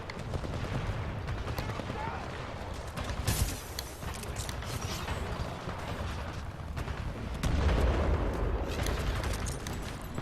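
Dense video game gunfire from Titanfall 2 on a master difficulty mission, with sustained shots and bursts crowding a busy battle mix, louder in spots and again near the end.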